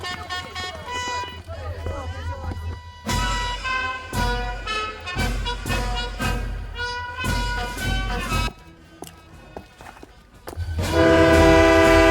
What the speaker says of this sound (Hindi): रॉनी, टोल ट्रेन निकल चुकी है।